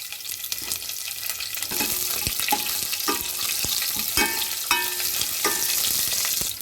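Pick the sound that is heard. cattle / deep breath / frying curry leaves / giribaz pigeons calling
frying curry leaves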